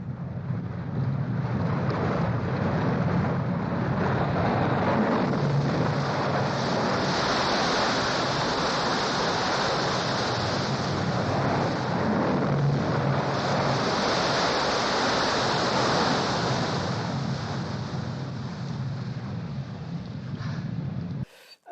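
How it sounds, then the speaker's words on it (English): Roaring, crashing water from a tunnel scene in a James Bond film, a loud and steady broadband rush that swells and surges throughout with no voices. "the scene when he was crawling through the tunnel with the roar of the water and the crashing of the water"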